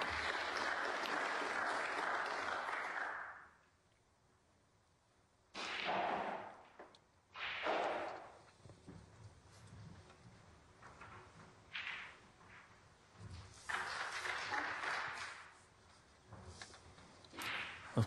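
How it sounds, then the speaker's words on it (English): Applause from neighbouring matches in a snooker arena: a sustained burst of clapping fades out, then further rounds rise and fall from several directions, near and far, with quieter gaps between them. "you can hear applause going on all around the arena"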